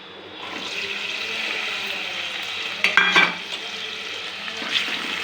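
Green chillies and chopped onions fry in hot oil for a masala brinjal curry, giving a steady, close hiss of sizzling with a brief clatter of stirring midway.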